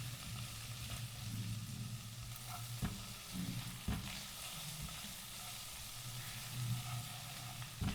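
Dried fish cooking with egg in a pan gives off a low, steady sizzle, broken by occasional scraping knocks of a spatula as it is stirred; quiet and close, with no talking.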